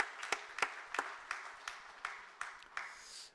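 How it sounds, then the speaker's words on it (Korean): A church congregation at a Thanksgiving Sunday morning service claps to welcome a visiting member: sparse, distinct hand claps in a steady rhythm, about three per second, fairly faint and without talk. "박수로 환영하겠습니다."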